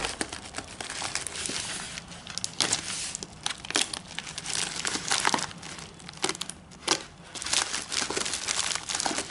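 Plastic packaging crinkles and tears repeatedly while a box of survival gear is unpacked, with bursts of sharp rustling and crackling close to the microphone, no talking.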